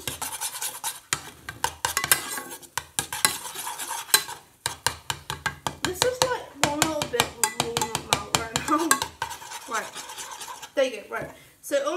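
Butter being stirred as it melts in a pan for cauliflower cheese, with rapid repeated scraping and clinking of a utensil against the pan and a faint sizzle, close up, with a voice talking briefly near the end.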